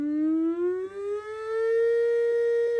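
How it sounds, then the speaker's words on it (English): A loud, sustained civil defense siren, the weekly Monday noon test, wails steadily, its pitch slowly rising, with no voices. "So the sirens go off."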